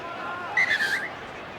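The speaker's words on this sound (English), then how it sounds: "That's why the whistle went." A referee's whistle sounds once, short and sharp, during a Dolphins versus North Queensland Cowboys NRL rugby league match, over a steady murmur of stadium crowd noise.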